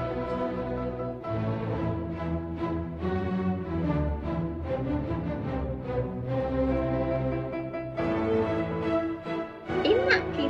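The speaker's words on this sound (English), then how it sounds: "Camille Saint-Saens is trying to represent the animal of a lion." Orchestral music from the lion movement of Saint-Saëns' Carnival of the Animals plays steadily and fairly loud, with a full, sustained ensemble texture, swelling phrases and a brief rise near the end.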